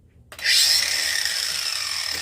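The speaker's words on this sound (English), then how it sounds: "Take the grinder and grind the burrs a little bit." An angle grinder grinds burrs off a metal power strip, spinning up abruptly after a short quiet start into a loud, steady high-pitched whine with harsh abrasive hiss that holds throughout, with no talking.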